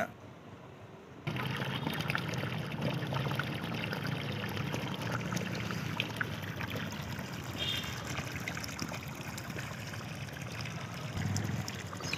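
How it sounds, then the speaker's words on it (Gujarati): Water gushes and splashes steadily for several seconds after a brief quiet start, a continuous pour onto the ground around trees in a college garden in Godhra during 42-degree summer heat. "નિયમિત પાણી પાઈ વૃક્ષોની સેવા થઈ રહી છે"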